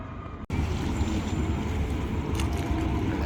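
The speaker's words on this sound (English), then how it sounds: "And the ferry is leaving Gröna Lund." A ferry pulls away from Gröna Lund in Stockholm with a steady, loud engine drone and rushing water, heavy wind buffeting the microphone after a brief dropout at the start.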